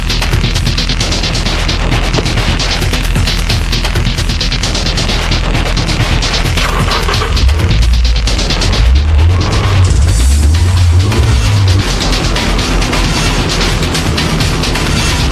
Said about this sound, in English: This is Tsuchiya's flat-out drift attack at Ebisu Circuit.